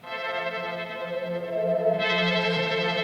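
A synth pad in an Ableton beat, low end cut and OTT compression switched off, drones as a sustained chord that brightens and thickens partway through, playing alone at a steady moderate level.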